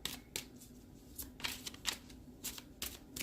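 Tarot cards shuffled and drawn, a quiet, close series of crisp flicking and riffling bursts in an uneven rhythm, each a short papery snap with soft rustling between.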